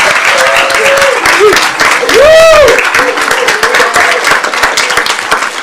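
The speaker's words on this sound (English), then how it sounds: "I think they deserve a huge round of applause for the hard work they've done now and will continue to do" Audience applauding powerlifters at a town council meeting, a sustained wash of many hands clapping with a voice and a brief whistle-like tone rising over it partway through.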